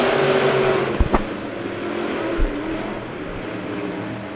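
Dirt track race cars roar as they accelerate at the green flag start of a heat race at Monett Motor Speedway, a loud, continuous engine din with a couple of sharp thumps early on.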